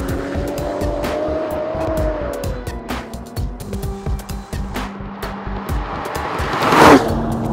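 Volvo S60 Polestar drifting on snow, its engine revving and droning close by with shifting pitch, wheels spinning and tires scrabbling, building to a louder surge near the end.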